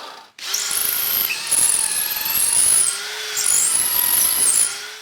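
A power drill whines loudly at close range in two long bursts, its pitch shifting as it bites into a hard ebony block.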